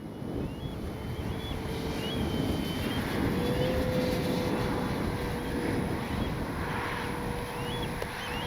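A radio-controlled P-47 Thunderbolt model warbird flies past on a relentlessly windy day, its engine drone rising and shifting in pitch as it passes, half buried under heavy, continuous wind rumble on the microphone.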